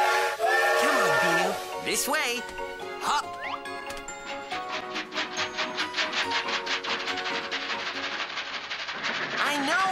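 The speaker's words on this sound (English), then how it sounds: "Carnival train is here." A cartoon carnival train arrives through fog with a rising whistle and a long run of bright jingling, chugging pulses, loud and close, while a voice speaks over the start.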